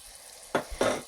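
Eggs added to potatoes cooking in a pan, giving two short bursts of sizzling and stirring against a quiet background.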